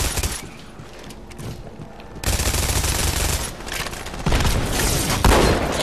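Shotgun blasts and rapid gunfire crash out in a Halo 2 custom multiplayer match on Valley of Doubt, loud dense volleys with booming impacts that surge after a quieter opening stretch.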